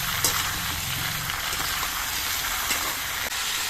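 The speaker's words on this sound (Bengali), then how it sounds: "এবার সবজিগুলো কিছুক্ষণ ভেজে নিতে হবে" Vegetables with salt fry in oil for a Bengali thankuni leaf shukto, giving a steady, dense sizzling hiss that holds evenly throughout with no one talking.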